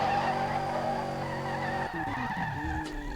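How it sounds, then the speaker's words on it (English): A supercharged BMW S65 V8 swapped into an E46 M3 in SLRR racing game drones with a high steady whine layered over the engine note, then shifts as tires squeal and revs drop partway through. "You can hear the supercharger."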